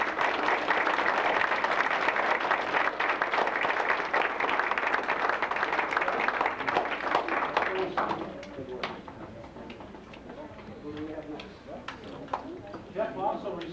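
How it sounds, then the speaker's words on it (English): An audience at a Cub Scout ceremony claps in a dense burst that thins into scattered, fading claps, with quiet voices underneath. "So why don't we just all applaud them and congratulate them"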